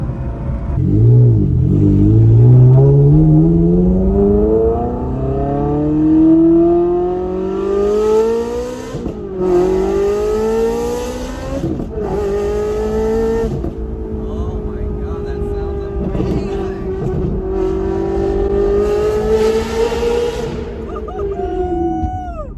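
A Ferrari 360 Modena's V8 engine revs up and down repeatedly, its pitch climbing and falling in long sweeps, loud and close, with a deep growling roar.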